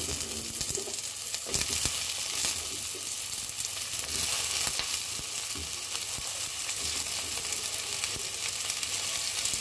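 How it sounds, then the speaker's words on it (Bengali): Cut potatoes and vegetable stems hiss in hot oil with fried onion and green chilli, a dense continuous sizzle with faint crackles and occasional stirring scrapes throughout. "এইবার এইটাকে সুন্দর করে একটু হালকা ভেজে নেব।"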